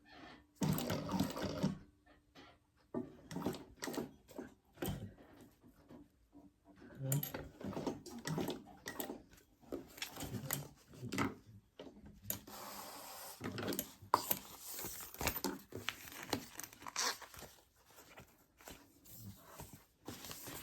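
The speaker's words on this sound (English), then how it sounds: "We're going to sew those side seams." A sewing machine stitches the side seams of a crossbody bag in short stop-start bursts of mechanical whirring and rattling, separated by quiet pauses and soft handling of the fabric.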